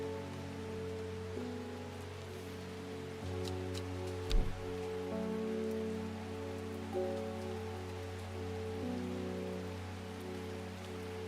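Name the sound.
rain from video game Strange Horticulture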